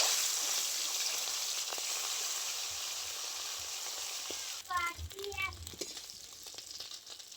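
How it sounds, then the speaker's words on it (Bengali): Fish frying in hot mustard oil in a wok makes a continuous close sizzle, loudest at first and easing slightly. A voice briefly speaks over it near the end. "এবারে মাছগুলো ভেজে নেব।"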